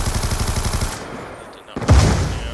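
Rapid automatic gunfire in the Call of Duty video game, a loud fast burst of repeated shots that cuts off into a quiet gap before a heavy thump and rumble return.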